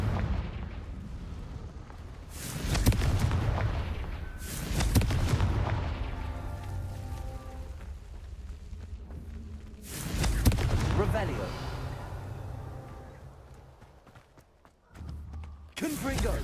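Fiery Confringo spell blasts in the Hogwarts Legacy game go off as several loud, booming explosions at irregular intervals, each trailing into a rumbling decay over a game soundscape with voices.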